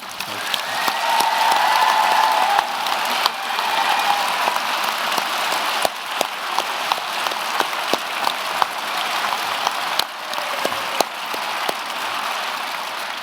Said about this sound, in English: deserve a round of applause as well